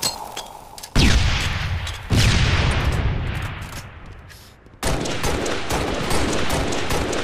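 Gunfire in the Halo video game: loud, close bursts of shots that strike suddenly, then trail off into a decaying roar before a fresh volley resumes, with no talking.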